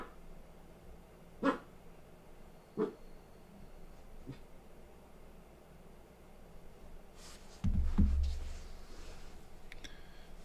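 A dog barks a few times in the distance, short isolated barks spaced seconds apart over a quiet background, followed later by a low thump.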